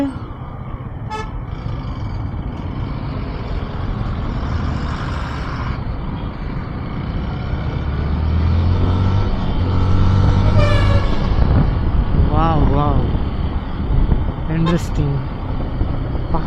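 Heavy city traffic in Coimbatore, heard from a motorbike, with a constant rumbling roar of engines and several sharp vehicle horn toots scattered throughout, while a voice talks over it.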